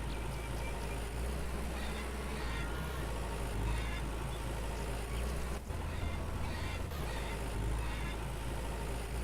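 A lawn mower engine drones steadily and close in Farmer's Dynasty, a continuous low motor hum without breaks, with no voices over it.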